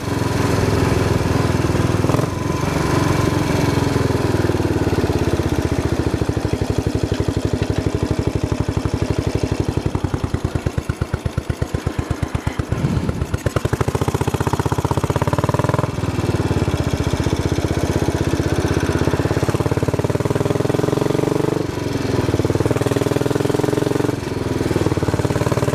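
A Royal Enfield motorcycle engine runs steadily and loudly throughout, a lane bike ridden at an easy pace, its thumping drone close and continuous with a brief rougher, pulsing stretch midway.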